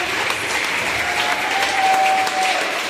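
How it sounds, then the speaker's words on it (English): Steady applause from an audience at a school rewards assembly, a dense continuous patter of many hands that holds evenly throughout with a faint tone running beneath it. "Let's give a big round of applause for Mrs."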